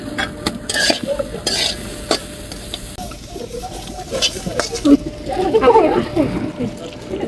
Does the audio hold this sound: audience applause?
no